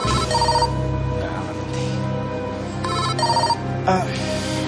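A telephone ringtone trills in repeated bursts, loud and close, over steady background music, with a brief voice near the end.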